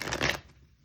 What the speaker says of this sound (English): We'll go ahead and give these cards a shuffle.